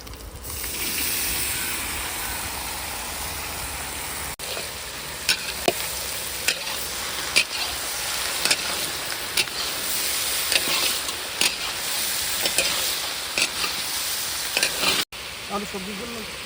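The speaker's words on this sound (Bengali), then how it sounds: "আলুটা দিয়ে আলুটাকে ভালো করে মিক্স করে হালকা হালকা সিদ্ধ করে নেব" Potatoes being mixed and cooked in a pan for a village-style Bengali ghugni, a constant frying hiss with light steam and regular soft scrapes and clicks of stirring.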